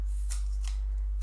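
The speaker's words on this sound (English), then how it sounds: "Big old shuffle" A deck of oracle cards being shuffled, giving short papery riffling bursts repeated several times in quick succession, close and fairly loud with no talking.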